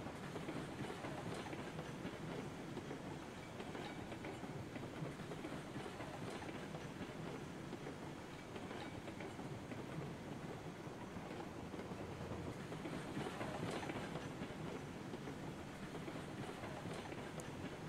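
A train rolls on rails in the video game Railroads Online, giving a steady, dense rumble and clatter that holds at an even loudness throughout with no voices.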